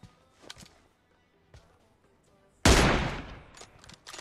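Gunfire in the shooter game PUBG Mobile: a few faint distant pops, then a sudden loud burst of rapid shots that rings out and fades, followed by a couple more quick shots.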